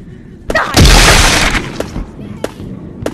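A tank blows up in a war video game: a loud booming blast with a crashing, shattering tail, followed by a few sharp thuds. Voices are heard around it.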